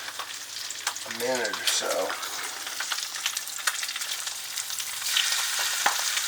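Fresh fish frying in hot grease, a steady close sizzle running throughout while someone talks over it for a moment.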